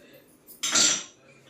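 A kadai, an Indian wok, set down on a kitchen stove: one short metallic clank and scrape, fairly close, after a brief quieter knock, in a quiet home kitchen.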